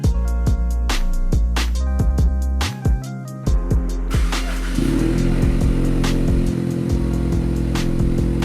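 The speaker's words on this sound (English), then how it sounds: "Let's get this car on the ground and hear the first startup." Ford EcoBoost Mustang with an FFP axle-back exhaust fires up from a cold start about halfway through, settling into a steady, loud idle rumble with sharp rhythmic thumps running throughout.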